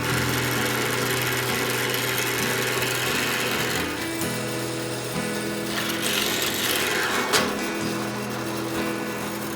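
A drill boring a hole through a piece of steel rail for a backyard railroad rail joiner, a steady loud motor whine with shifting tones as the bit bites, one sharp knock near the end.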